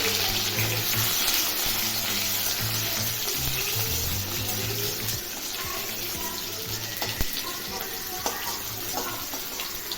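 Onions sizzle steadily in a hot pan of oil with dried red chillies, green chillies and bay leaves, a continuous close frying hiss with faint stirring and clinks, no talking.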